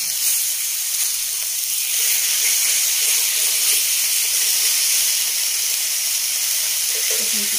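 Chicken fajita meat sizzles steadily in a frying pan, a dense, continuous hiss of frying that holds at an even level throughout with no talking.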